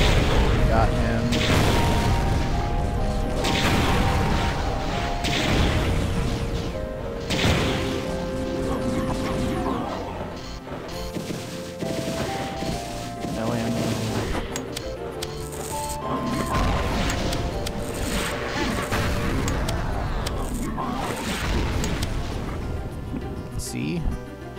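Repeated rocket launches and heavy booming explosions in Doom 2, loud and frequent over game music, with a voice talking between blasts.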